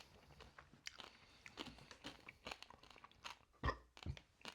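Crunchy pork crackling with a thick layer of fat being bitten and chewed close up, a run of sharp irregular crunches with one especially loud snap near the end, quiet between bites.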